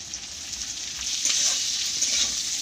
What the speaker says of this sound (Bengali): এবার শিমলা লঙ্কাটা ভাজতে থাকি